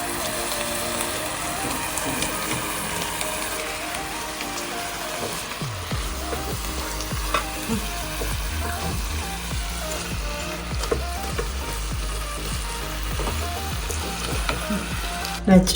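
Seasoned fish, spiced with a little red pepper, goes into a hot pan. A fairly quiet stretch gives way to a loud, dense, rain-like crackling sizzle that holds steady to the end.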